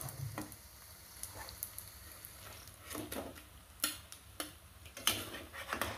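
Food frying in oil in a pan with a continuous low sizzle, broken by several sharp ticks and scrapes from a utensil, heard close up with no speech.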